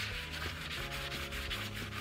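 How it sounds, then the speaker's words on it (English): A 180-grit sanding block rubs over the carved detail areas of a painted wooden buffet, giving a steady, close, continuous scratchy rasp of back-and-forth strokes with no voices. "So I've got 180 sanding block here."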